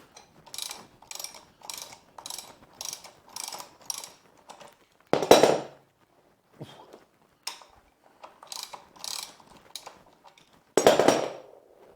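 A ratchet undoes a bolt on the front wheel of a Royal Enfield Himalayan motorcycle, making rapid, close clicking bursts in a steady rhythm, broken by two sharp, louder metallic clanks.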